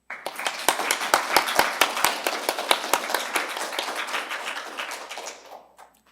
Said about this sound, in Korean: 한 분 한 분 소개해 드릴 때마다 뜨거운 박수로 환영해 주시길 부탁드립니다